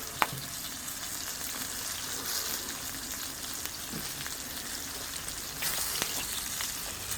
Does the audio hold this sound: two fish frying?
yes